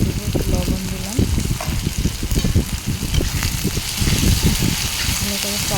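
Tomatoes, green chillies, chilli powder and salt fry with spice masala in a pan, giving a steady, close sizzle and scraping stirs throughout while someone talks over it.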